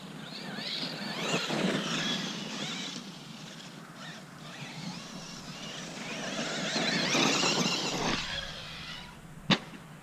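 A Kraton EXB RC car motor screams at full throttle with a high, wavering whine that surges and dips as it runs, then a sharp knock near the end.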